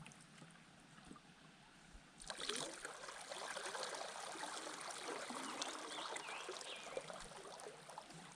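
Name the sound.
little stream flowing into a reservoir cove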